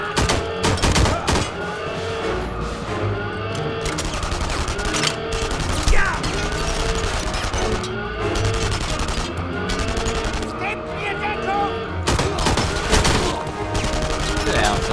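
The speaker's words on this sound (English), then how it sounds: "There's somebody over somewhere shooting at me." Dense gunfire fills a battle in the video game Enemy Front, with rapid automatic bursts, single shots and booms layered continuously under occasional talk.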